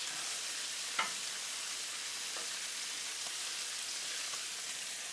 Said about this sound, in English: I will flip this bacon a couple of times.